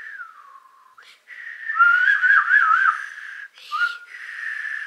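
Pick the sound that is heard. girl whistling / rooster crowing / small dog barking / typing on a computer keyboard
girl whistling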